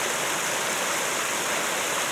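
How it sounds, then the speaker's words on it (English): A distant waterfall of concrete spillways in a dark Japanese forest gives a steady, even rush of water with no breaks. "I see a waterfall beyond,"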